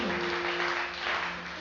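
Congregation in a church applauding for the Lord, a steady dense clapping wash held for a moment, with a faint sustained organ or keyboard tone underneath.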